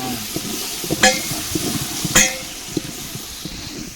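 Garlic paste sizzling in a pan for a Madurai-style country chicken curry, a steady soft frying hiss broken by a couple of sharp utensil clinks against the pan.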